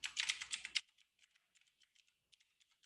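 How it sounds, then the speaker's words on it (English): Typing on a computer keyboard at close range: a dense, loud burst of rapid keystrokes, then scattered lighter clicks in an irregular rhythm. "I've been like fumbling big hands on the keyboard"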